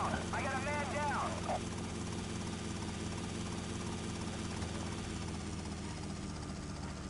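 A helicopter flies in Grand Theft Auto: Vice City, its rotor and engine making a steady, loud drone throughout, with a brief voice near the start.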